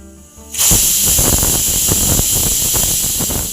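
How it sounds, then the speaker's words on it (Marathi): A pressure cooker steadily hisses out steam while pav bhaji vegetables cook inside, a loud continuous release that starts abruptly after a quiet moment and holds steady throughout. "कुकरच्या चार शिट्ट्या करून झालेल्या आहेत"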